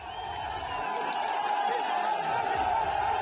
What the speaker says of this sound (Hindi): ये सचिन पायलट के समर्थन में नारे और भीड़ देखिए आप